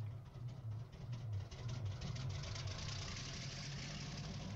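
Diesel locomotive engine in the FC&N video game running at a steady idle, a continuous low rumble with a faint rhythmic knock, fairly loud and unbroken, with no voices.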